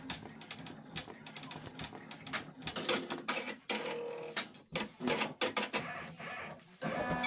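An embroidery sewing machine stitches at 900 stitches per minute, a fast, busy mechanical chatter of rapid needle strikes. It rises and dips in short bursts and stays close and fairly quiet.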